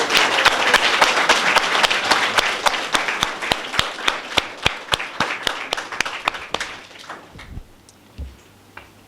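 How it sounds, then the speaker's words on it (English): A large audience at a book launch claps in sustained, dense applause that stays loud for several seconds, then thins into scattered individual claps and fades toward the end. "let's have a long, strong, and profound round of applause"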